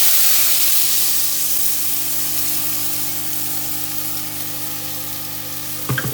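Kofta mixture fries in hot oil with a loud, steady sizzle and hiss throughout, and a brief stir or clatter near the end.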